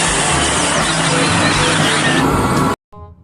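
A tanker truck drives past on a road, a loud, steady engine roar filling nearly three seconds before it cuts off abruptly, with a faint rumble after.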